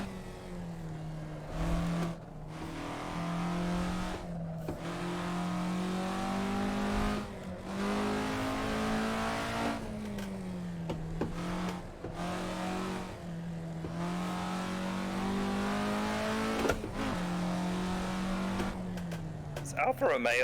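An Alfa Romeo GTA race car in Assetto Corsa at Thomson Road, its engine revving hard in a steady rising drone, dipping briefly at each gear change, with occasional tyre squeal throughout.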